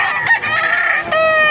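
Loud, close chicken calls with a drawn-out rooster crowing cry amid overlapping clucks, filling the whole short moment, at a chicken market in Baliuag, Bulacan.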